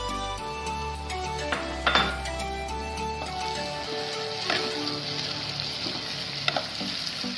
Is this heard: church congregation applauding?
no